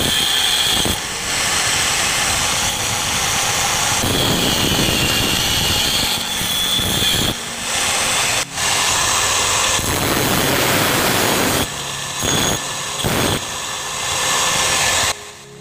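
Ceiling fan blade ground down at the front edge, a loud continuous harsh grinding roar with brief dips and breaks, close up and alone.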